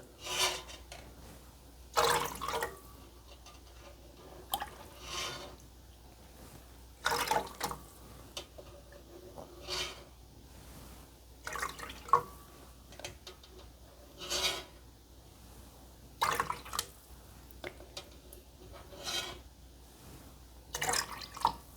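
Curds and whey for camembert cheese ladled by hand, with intermittent wet scooping, rubbing and dripping sounds recurring every few seconds, close and moderately quiet, no talking.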